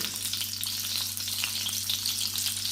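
Chilli powder and other spices sauté in a frying pan for an egg curry, a steady close sizzle with faint stirring scrapes throughout, no voices.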